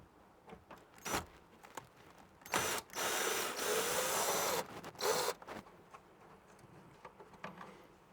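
A screwdriver backs out Phillips screws from the bumper of a Mondeo Mk3 ST220, with bursts of ratcheting whir between quiet clicks and handling noises, fairly close.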